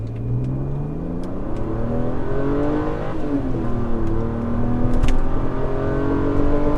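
A 1995 Mercedes-Benz C36 AMG accelerating hard from a dead stop, its engine note climbing through successive gear shifts, loud and sustained from inside the car.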